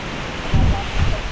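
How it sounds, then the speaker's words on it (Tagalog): Strong wind buffets the microphone outdoors at a house, a loud broadband rush with a heavier gust swelling midway and another near the end. "Malakas yung hangin mga kababayan."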